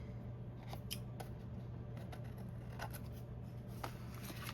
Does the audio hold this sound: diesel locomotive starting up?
no